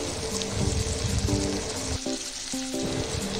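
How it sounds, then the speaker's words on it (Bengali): Chopped tomatoes and onions fry in a pan, giving a continuous close, dense sizzle with a few softer stirring dips and a faint tonal background underneath. "পেঁয়াজটা একটু ভাজা ভাজা হলে টমেটো কুচিগুলো দিয়ে দেব।"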